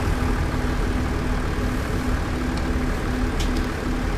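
A tractor engine in a farming video game drones steadily at close range, a constant loud low rumble with a faint regular hum pulsing through it and no speech.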